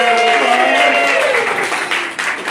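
A crowd claps for Josephine at a children's birthday magic show, a dense, steady round of applause heard close, with a voice talking over it as it slowly tapers toward the end.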